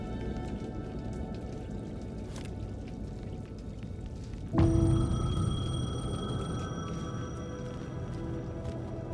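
A payphone rings in the video game Alan Wake 2, a sharp electronic ring cutting in suddenly midway over a steady background of rain, continuing as a sustained tone through the rest of the moment.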